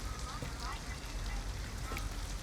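Steady rain hissing on surfaces in the video game Detroit: Become Human, a continuous wash of drops at moderate level filling the whole stretch, with no talking.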